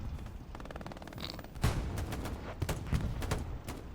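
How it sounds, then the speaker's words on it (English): Gunfire in the Hell Let Loose video game, a rapid burst of shots followed by several louder distant thuds and cracks at irregular intervals, all fairly faint. "What do we hear? Explosions or fire here?"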